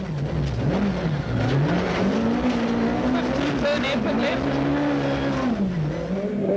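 A Volkswagen rally car on a stage, its engine revving up and down in rising and falling sweeps with tire noise, heard close and continuous beneath a co-driver calling pace notes.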